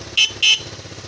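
Two short, bright motorcycle horn beeps a fraction of a second apart, loud and close, over a low idling engine rumble.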